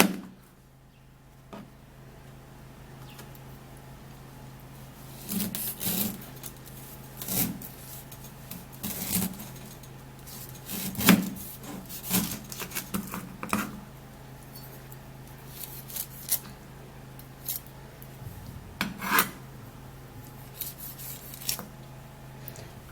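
A pineapple is peeled with a knife, heard as repeated short scraping and cutting strokes, close and fairly quiet, with soft rubbing and handling between them.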